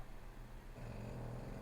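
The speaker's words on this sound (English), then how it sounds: "That's probably the bulldog snores in the background." A bulldog snores in the background of an indoor room, a low, rumbling, steady drone that grows a little stronger and rougher partway through, with no talking over it.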